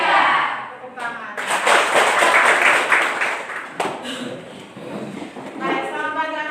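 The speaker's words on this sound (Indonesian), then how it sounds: "tepuk tangan" Schoolchildren in a classroom clap their hands together in short bursts of rapid, close, loud claps, broken by brief pauses, with voices speaking and calling out between and over the clapping.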